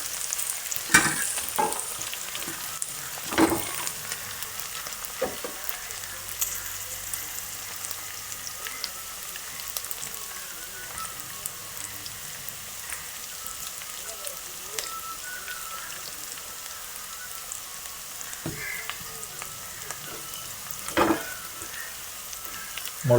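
Beef pieces fry in a pan for a traditional home-style beef fry, a steady close sizzle with occasional stirring scrapes and clatters running throughout, no talking.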